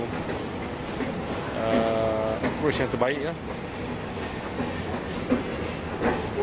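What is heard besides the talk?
MRT train passing near Kajang stadium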